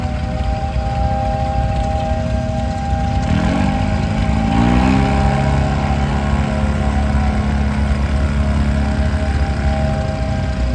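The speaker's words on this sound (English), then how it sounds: "John Deere's first small diesel tractor, built in 1960" A 1960 small diesel John Deere tractor engine chugs steadily throughout at a vintage engine parade, its pitch briefly rising midway before settling back into a constant idle.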